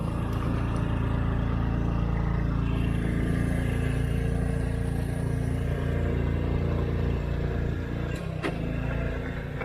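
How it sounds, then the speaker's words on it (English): A little Honda Cub motorbike engine drones steadily as it rides up a side road near a temple in northern Thailand, loud and continuous throughout with a brief clunk near the end. "Come on, little Honda Cub."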